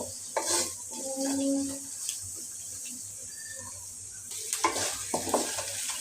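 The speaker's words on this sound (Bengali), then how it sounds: "আমি মশলাটা ভালোভাবে কষিয়ে নিলাম" Spice paste with ginger sizzles and is stirred in a frying pan while making vegetable rolls, with scraping stirs and clinks over a steady close fry.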